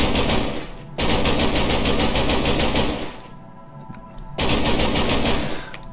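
Loud bursts of rapid automatic fire from an AKS rifle in a Minecraft gun mod, in two long sustained volleys separated by a short pause, harsh and close.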